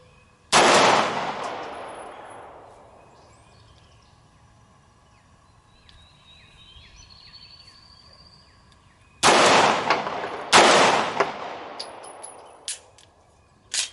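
A handgun carried for everyday use fires during outdoor point-shooting practice: one loud, sharp shot followed by a long echoing decay, then two more close shots several seconds later, with quiet ambience between.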